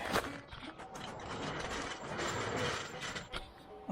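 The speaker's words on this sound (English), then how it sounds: "I think I'll jack up the back side first." Mechanical ratcheting and creaking from a car jack raising the rear of a rat rod, a steady run of clicks and metal strain lasting several seconds, close and fairly loud with no talk.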